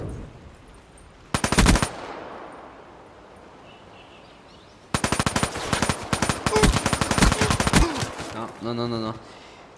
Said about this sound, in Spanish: es un arma de que dispara mucho y hace menos daño